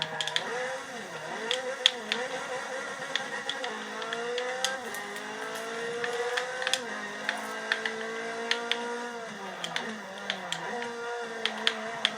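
A GT LM race car engine in Forza 6, revving and shifting through gears with rising and falling whines, accompanied by frequent sharp clicks and taps throughout.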